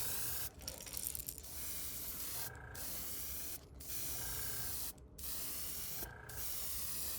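A Gaahleri Mobius 0.2mm airbrush sprays thin titanium white paint onto fishing lures, giving a steady close hiss in several bursts broken by brief pauses, with no talk.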